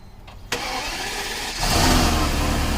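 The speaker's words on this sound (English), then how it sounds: "And she fires up at least." A Mercedes-Benz W140 engine cranks with a sharp burst, catches, and settles into a steady idle that grows louder and rougher after a second or so, fairly close.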